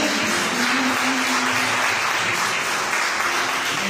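A church congregation applauds during a Sunday family worship service, dense steady clapping that fills the room continuously without pause.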